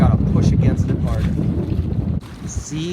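Strong wind buffets the microphone during a heavy-air Sabot dinghy sailing race off Coronado, with loud gusty rumble and someone talking over it.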